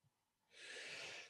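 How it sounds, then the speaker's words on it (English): A single stifled sneeze, heard as a soft breathy burst of hissing air that lasts under a second after a brief quiet pause. "I'm going to sneeze."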